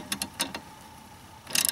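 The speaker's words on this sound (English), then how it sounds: "Then just remove the bolts." Bolts being removed from a dull lawn mower blade, heard as two short bursts of close, dry ratcheting clicks separated by a quiet pause.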